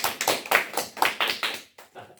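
A few students clap in a classroom, with around seven quick, slightly uneven claps followed by softer, trailing ones, while a voice talks faintly over them.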